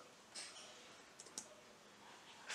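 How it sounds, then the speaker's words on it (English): Keystrokes on a computer keyboard entering a fastboot command to flash TWRP recovery on a Xiaomi Redmi Note 5, a few quiet, separate clicks scattered over a faint background hiss. "Now just type fastboot"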